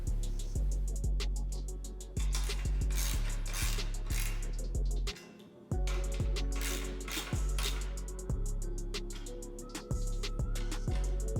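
Close, dry clicking of a ratchet wrench tightening the luggage rack bolts on a Triumph Tiger Sport 660 motorcycle, rapid pawl clicks in repeated strokes with short pauses between turns, quiet and without speech.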